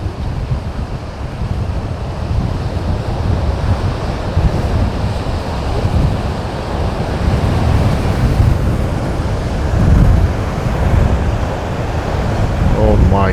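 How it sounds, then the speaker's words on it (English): Big ocean waves crash at Haulover Inlet in rough, raging water, a loud continuous wash with heavier surges and buffeting wind noise, with no voices. "Look at the waves. The waves are crashing."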